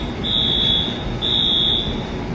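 A building fire alarm sounds two long, piercing electronic tones in a row, separated by a short gap, steady and loud over a constant background hum.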